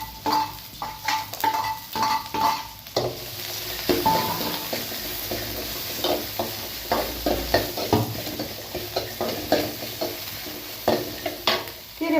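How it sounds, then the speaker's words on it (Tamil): Ginger, chilli, pepper and cumin sautéing in hot oil give a continuous close sizzle, broken by repeated scraping and clinking strokes of a spoon against the pan in an irregular rhythm. "நல்லா எண்ணெயில் விட்டு வதக்கிக்கலாம்."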